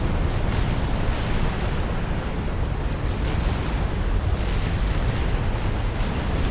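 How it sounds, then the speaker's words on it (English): Tactical missiles blasting base defences in a Supreme Commander battle make a continuous loud, dense rumble of overlapping explosions, steady and wide throughout with no talk. "you can see tactical missiles from Ura is able to destroy tactical missile defences and harm the base"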